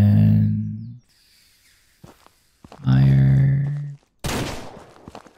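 A rifle shot in the ranching game Ranch Simulator rings out as one sharp, loud burst near the end, set among heavy low rumbles and thuds.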